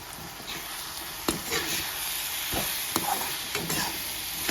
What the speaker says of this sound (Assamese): এইখিনি মই ভালদৰে লৰাই ল'ম